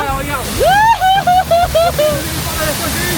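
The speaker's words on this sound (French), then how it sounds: "Il y a une cascade." Rushing water from a waterfall on an amusement park water ride at Gardaland, a steady close roar under a voice that calls out in a long, rising cry.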